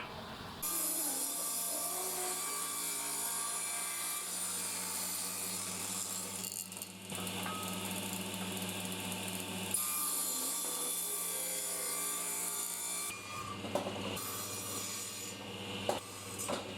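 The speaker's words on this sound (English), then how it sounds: "So I'll just do that on the table saw." Pallet wood being ripped into strips on a table saw, a steady loud whine of the blade running through the boards with a constant low motor hum beneath, brief dips between passes.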